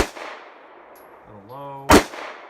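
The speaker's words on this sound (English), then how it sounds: "So I'm just going to keep loading up and shooting here." A Smith & Wesson Shield 9mm pistol fires one loud, sharp shot at a shooting range near the end, after a quiet stretch with a brief murmured voice.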